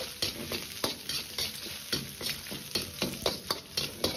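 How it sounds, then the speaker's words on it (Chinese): Pork stir-frying over medium heat in hot rapeseed oil in a wok, a quiet steady sizzle punctuated by regular rhythmic scraping strokes of a spatula, close and without speech. "油热后保持中火，下入猪肉，煸炒出香味和油脂"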